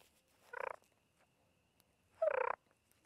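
Two short turkey gobbles made with turkey calls, imitating wild turkeys; a brief rattling burst followed by a second, louder one after a pause, in an otherwise quiet setting.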